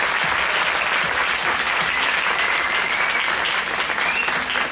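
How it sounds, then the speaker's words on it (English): Dense, steady applause from an audience for Reverend Georgia fills the whole stretch, loud and unbroken with no voices on top. "one more beautiful, robust round of applause for Reverend Georgia"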